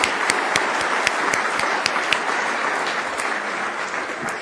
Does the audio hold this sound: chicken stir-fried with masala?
no